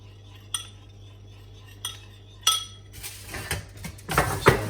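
Soy sauce and teriyaki sauce for salmon being stirred in a pan or bowl: a few sparse utensil clinks at first, then a burst of busier scraping and clattering toward the end, fairly close.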